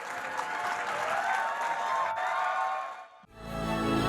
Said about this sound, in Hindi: तो ज़ोरदार तालियों के साथ स्वागत कीजिए कुमार विश्वास जी का।